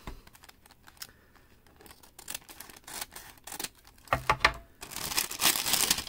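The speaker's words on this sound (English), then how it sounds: "Let me see if I could cut the bottom of the bag here." Scissors cut the bottom of a plastic bag from an Etsy order, heard up close as quick crisp snips and rustles followed by louder crinkling of the plastic near the end.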